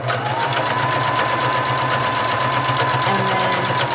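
A sewing machine stitches a simple line through a junk journal page, running steadily and loudly up close as a continuous mechanical whir with rapid needle ticking, no voices.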